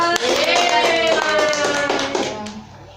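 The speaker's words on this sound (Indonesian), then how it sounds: "Kita beri aplaus." A grade 4 classroom bursts into close, busy applause with quick overlapping claps, and voices ring over it before it fades out.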